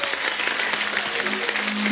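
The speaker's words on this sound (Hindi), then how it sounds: "अरे किरण जी के लिए जोरदार ताली।" Dense, steady audience applause fills the studio of a Hindi comedy talk show, a continuous wash of many hands clapping at even loudness with no voices on top.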